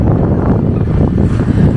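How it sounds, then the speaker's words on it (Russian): Strong wind presses against a tent pitched at a mountain base camp, a loud, continuous low roar buffeting without pause. "Такой вот ветер давит в палатку."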